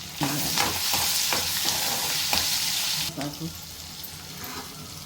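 Green chilies, cashews, asafoetida and curry leaves sizzle in hot oil for a tempering, a loud continuous frying hiss with stirring clatters, easing off and quieter toward the end.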